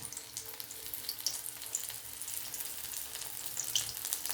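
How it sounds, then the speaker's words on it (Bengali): Drumstick (sajne) flower fritters frying in hot oil over low heat, a steady bright sizzle with small crackling pops throughout, no talking. "এবার আমি আঁচটা কম করে এর মধ্যে বড়াগুলো দিয়ে দেবো।"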